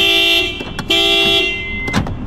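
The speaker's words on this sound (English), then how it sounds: "every time I unlock it, watch, it's about to start beeping" A Honda CR-V gives a couple of short electronic beeps and a chirp close by on unlocking, with brief clicks in between, loud and clear against quiet surroundings.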